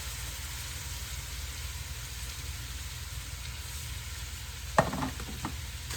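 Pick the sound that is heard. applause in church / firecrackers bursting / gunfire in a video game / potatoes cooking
potatoes cooking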